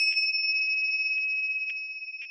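A single meditation bell rings with a pure, sustained tone that hangs steadily, with faint pulses of renewed striking through the ringing and no voices.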